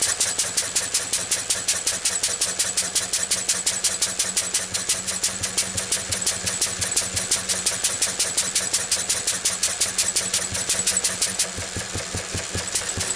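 A Lister D stationary engine runs close up, its rapid, even exhaust beats pulsing steadily, with the rhythm changing slightly near the end as it is sped up.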